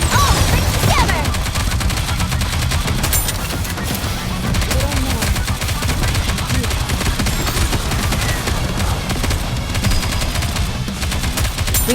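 Sustained, loud squad gunfire from a NIKKE: Goddess of Victory battle: dense bursts and rapid automatic shots run nonstop, with occasional heavier booms and faint voice lines under the shooting.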